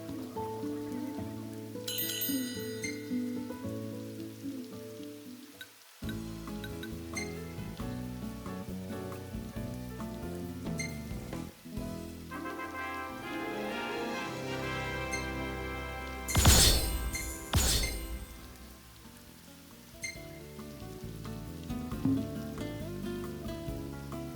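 Steady rain patters over a campsite in Final Fantasy XV, a continuous close wash of falling drops running under game music and sound effects, with a brief louder burst partway through.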